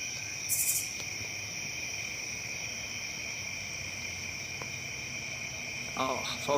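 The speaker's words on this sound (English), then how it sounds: "So as you can hear, we have all the nighttime creatures out." Dense nighttime chorus of crickets and insects, steady high-pitched trilling throughout, with a grasshopper among them and a brief bird-like chirp near the start.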